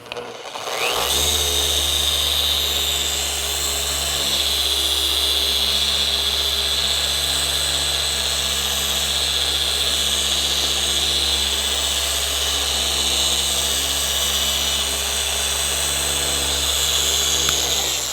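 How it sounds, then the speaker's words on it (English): Machine polisher compounding the paint of an F10 BMW M5 in a garage on a lift, a steady, loud, continuous whine with a constant hum that runs unbroken and alone throughout. "notice I'm moving the polisher a lot quicker than you normally see"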